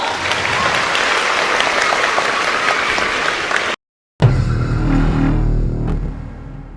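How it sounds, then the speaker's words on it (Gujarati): Sustained loud applause from a crowd, broken by a brief silence, then clapping resumes alongside a low rumbling hum. "એમના માટે જોરદાર તાળીઓ પાડો."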